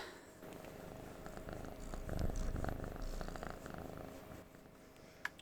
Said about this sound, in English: I have no idea if the mic is picking up all the purring or not